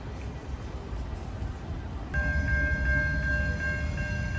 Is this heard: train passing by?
yes